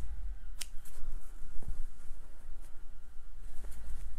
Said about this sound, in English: Going to cut the threads off.